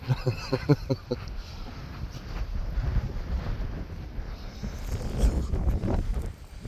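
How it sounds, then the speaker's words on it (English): Strong wind buffets the microphone in low rumbling gusts, steady and close, with a brief voice at the start, on a mountain hiking trail. "Sorry about the wind."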